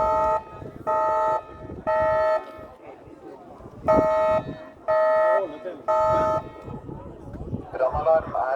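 Building fire alarm in Norway sounding in loud, steady electronic tone bursts of about one second each, repeated with short gaps, alternating with a recorded announcement voice.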